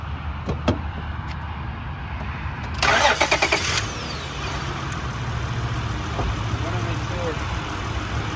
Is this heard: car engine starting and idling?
yes